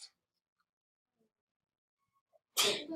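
A single sharp sneeze bursts out loudly at the end after near silence, with a faint earlier breath.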